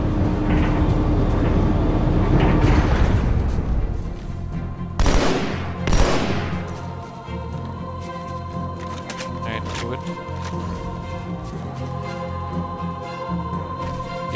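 Rapid gunfire in a battle at a bridge over a gorge in Halo 2, heavy at first, then two sharp blasts before fading into a low droning background with occasional voices.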